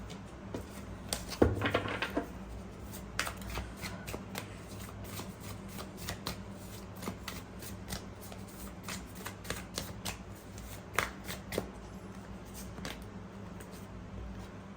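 Tarot cards being shuffled by hand: soft, close riffling and repeated light card slaps in a steady patter, with a brief louder flurry near the start over a low hum.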